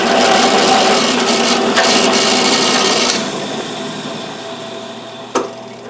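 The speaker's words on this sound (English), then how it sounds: "let's see if I can countersink it good or proper" Countersink bit cutting into a drilled hole sized for a 1/4-20 tap, a close, steady grinding rasp that eases after a few seconds, ending with a brief sharp knock and no talking.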